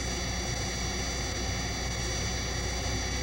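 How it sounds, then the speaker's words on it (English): Steady, loud jet engine roar played back as a continuous broadband rush, unchanging and alone with no voices. "Let's listen to how this jet noise can be altered when parts of it are filtered or removed."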